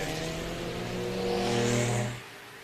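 Race cars at a time attack bracket final on a circuit, engines climbing in pitch as they accelerate hard and sweep past, loud and steady before the roar drops away sharply near the end.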